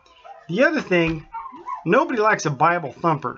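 Indoor dogs whimper and yip softly in brief bursts beneath someone speaking steadily close to the microphone.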